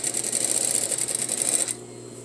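Sewing machine running steadily as it stitches a neck facing, a fast even needle chatter that stops abruptly near the end, leaving quiet room tone.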